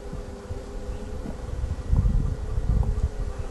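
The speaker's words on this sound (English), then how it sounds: "There's still a lot of bees." Steady, dense insect buzzing from many honey bees of a caught swarm, a continuous low drone that swells slightly louder midway, with faint rustling in the background.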